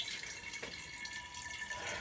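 Water trickles and runs steadily into a Durastill water distiller as it auto-fills, a soft continuous flow with faint dripping, close and alone with no voices.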